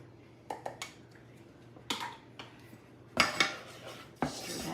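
A spoon stirs flour into melted butter in a pan, making sparse, quiet clinks and scrapes of metal on the pan, spaced apart with short bursts of rattling.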